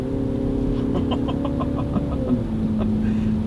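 A 2021 Mini John Cooper Works Clubman accelerating hard on a wet road, a steady engine drone with a rising tone heard from inside the cabin, fairly even in loudness throughout.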